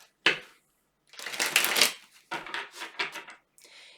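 A deck of tarot cards being shuffled up close, with a quick flick followed by several riffling bursts and short pauses between them, crisp and clear with no talk.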